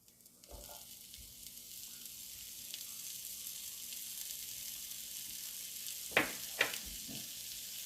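Diced onions for homemade loaded nachos hit a hot frying pan and set off a steady, moderately quiet sizzle, with a couple of sharp utensil clacks near the end and no voices.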